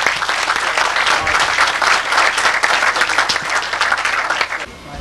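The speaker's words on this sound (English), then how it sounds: "Greg, let's give a round of applause for Greg Schiemer." Dense audience applause fills a lecture hall at the start of an evening reef aquarium talk, loud and continuous for several seconds before thinning out at the end.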